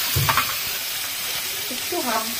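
Kakrol rolls fry in a covered pan with black cumin, sesame and pumpkin seeds, giving a steady broadband sizzle with a few brief clinks and faint voice-like tones over it.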